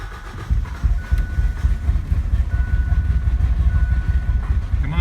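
A 1989 Ford Probe GT with a newly installed fuel pump and an exhaust leak cranks and runs, producing a steady, loud, low engine rumble that rises after a quiet first half-second.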